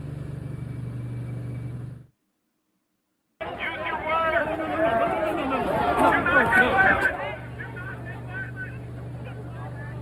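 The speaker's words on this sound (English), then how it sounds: "In this video, you can see just how violent and chaotic that crowd got." A chaotic crowd at a violent parking-lot protest over a school's Pride books erupts in a few seconds of dense shouting and commotion, framed by stretches of a calm voice talking and a brief silent gap.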